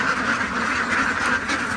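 Ducks quack steadily and loudly, a dense overlapping chorus of many birds close by.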